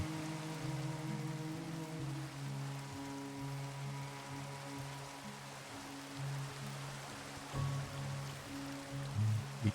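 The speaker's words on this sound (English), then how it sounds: "Oh, rain." Rain in a video game's terraforming build plays as a soft, steady patter of drops, faint and even, over a low background hum with no speech.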